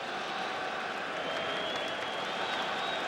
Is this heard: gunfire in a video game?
no